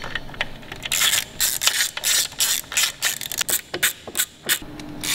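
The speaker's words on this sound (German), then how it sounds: "Nachdem alle Schrauben handfest angezogen sind, ziehen wir diese reihum fest." A ratchet tool tightens the screws on a scooter variator cover in quick clicking bursts, close and sharp, with brief pauses between the runs.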